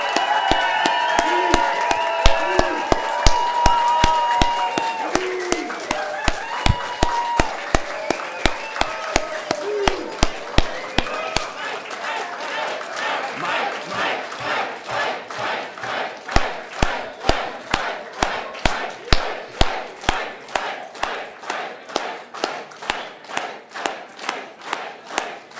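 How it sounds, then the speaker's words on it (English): Convention audience at a 2022 political party leader's address breaks into sustained applause and cheering, dense clapping and shouts filling the hall, later settling into loud rhythmic unison clapping. "please give me a hand in joining a rousing applause in introducing Mike."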